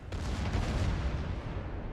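Heavy naval guns firing at close range in World of Warships, a dense rumbling boom of artillery that fills the whole clip, loud and continuous with no voices.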